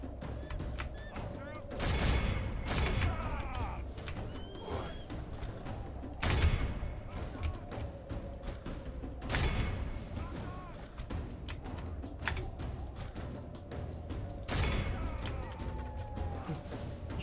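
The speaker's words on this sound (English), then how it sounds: "I'm being shelled up here" Artillery shelling in the medieval battle game Medieval II Total War: repeated heavy booms and crashes roughly every few seconds over a constant battle din, with someone talking throughout.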